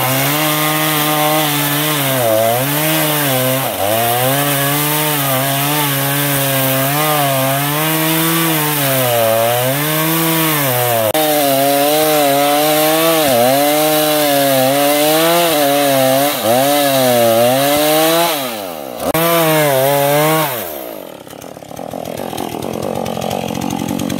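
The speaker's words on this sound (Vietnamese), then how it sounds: "Bây giờ tiếp tục lấy cưa lốc ra và cưa nha anh em nha." A chainsaw bites into the trunk of a palm tree, its engine loud and close, revving and bogging in a wavering whine for over twenty seconds before winding down.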